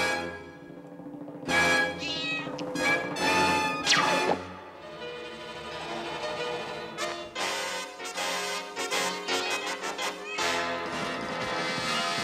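A cat meows in an animated Spider-Man cartoon episode, its cries mixed into dense, loud orchestral music and sound effects that run throughout.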